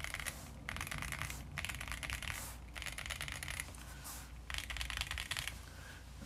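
Typing on a Keychron Q1 keyboard fitted with Boba U4T switches and MT3-profile keycaps: bursts of rapid, clicky-thocky keystrokes at close range, separated by brief pauses, with no talking.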